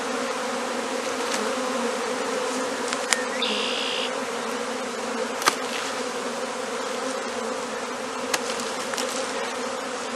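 A honeybee swarm, stirred up after its branch is shaken, fills the air with a dense, steady buzzing that drones on without pause, with a few brief clicks near the microphone.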